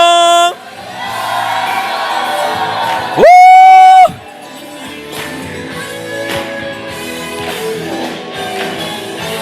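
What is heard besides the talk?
congregation shouting and cheering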